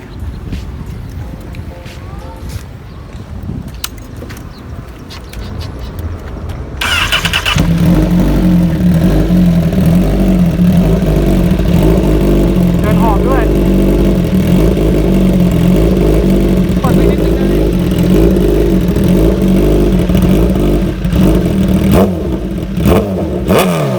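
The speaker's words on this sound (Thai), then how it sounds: "เดี๋ยวฟังเสียงท่อกันนะพี่" A tuned Honda CBR1000RR sport motorcycle with an aftermarket exhaust starts up after a quiet stretch, then holds a loud, steady, close-up rumble with throttle blips for the rest of the clip.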